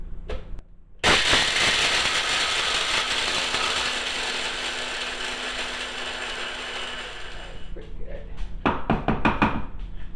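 A small electric grinder whirs loudly and steadily for several seconds while milling dried garbanzo beans into flour, then stops, followed by a burst of sharp knocks and rattles as the grinder is shaken and tapped; a voice speaks briefly.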